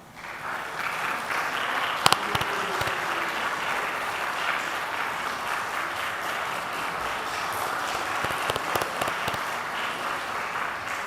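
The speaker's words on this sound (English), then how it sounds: "could you just stand up so that we can give you a big round of applause?" Sustained audience applause at a climate and development partners' meeting in India, steady and dense clapping from a large crowd, continuous for the full stretch without speech.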